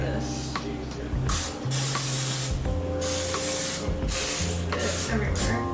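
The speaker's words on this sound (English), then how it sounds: "first I'm gonna spray" Cooking spray is spritzed into a casserole dish for cornbread casserole in a home kitchen, in several close, hissing bursts of a second or so each with short gaps between, while a person talks.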